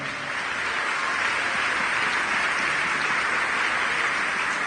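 A church congregation applauds and cheers to acclaim the Lord, a steady broadband wash of clapping sustained at full strength throughout, dense and fairly close with no speech over it.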